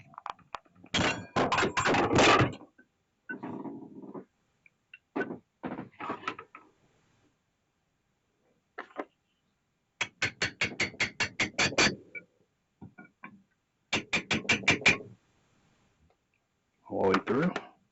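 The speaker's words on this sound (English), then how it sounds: "Now with this 3/16, I don't use my lineman pliers. I actually use bolt cutters." Bolt cutters snipping 3/16 steel stock in a knife-making shop, heard as loud, sharp repeated clacks and crunches in irregular clusters with silent gaps between them, close by.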